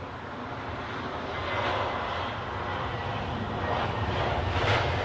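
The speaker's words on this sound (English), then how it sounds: "we've got an Airbus A320 in the hands of British Airways. About to put wheels down" A British Airways Airbus A320 coming in to land at London Heathrow, a loud, steady broadband jet roar that swells slightly partway through and holds, with no voices.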